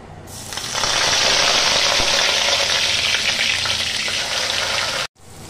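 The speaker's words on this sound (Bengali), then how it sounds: "আমি এই সয়াবিনের ঘুগনি রেসিপিটা বানানোর জন্য এখানে দিয়ে দিচ্ছি পেঁয়াজ বাটা" Ground onion paste, from two medium onions, for soybean ghugni hits hot oil in a pan with a loud, steady, broad sizzle that holds for several seconds and then cuts off abruptly.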